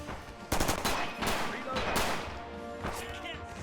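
Automatic weapons rattle in rapid, dense bursts during a Rising Storm battle between US forces and defenders near a sugar mill, with loud overlapping shots and crashes that continue without pause.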